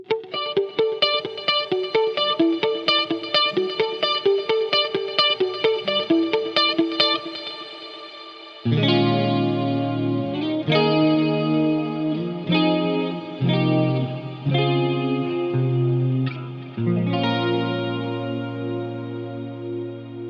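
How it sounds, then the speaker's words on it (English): An electric guitar through an Axe-FX rings out picked notes, then deeper chords, with each note trailing into a shimmering, pitch-shifted cloud reverb wash. "On the reverb block here, we're using the cirrocumulus cloud setting, and I have some pitch shifting."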